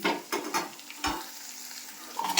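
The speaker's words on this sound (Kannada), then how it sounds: "ಇನ್ನೊಂದು ಸ್ವಲ್ಪ ಇದೀಗ ಫ್ರೈ ಆಗಲಿ ಹೀಗೆ." Sandubalii leaves and garlic frying in a pan with onion, a soft sizzle with a few short bursts of stirring and scraping, fairly quiet and close.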